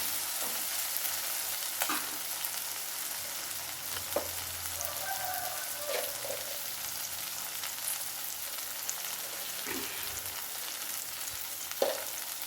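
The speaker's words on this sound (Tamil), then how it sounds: "இப்போ நல்லா வெங்காயம் வதங்கட்டும்" Onions, garlic and green chillies sauté in a pan with a soft, continuous frying sizzle and a few scattered stirring taps.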